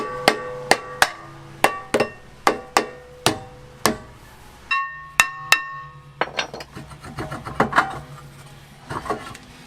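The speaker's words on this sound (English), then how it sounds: "I used a regular hammer just to give it a little more impact to break it loose" A regular steel hammer strikes a heavily rusted brake rotor on a Sprinter van in a series of sharp, ringing metallic blows, irregularly spaced, close and loud with no talk.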